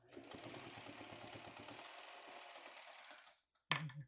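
A sewing machine stitches quilt block seams in a steady, fast mechanical whir for about three seconds, then stops. A brief loud clunk follows after a short pause.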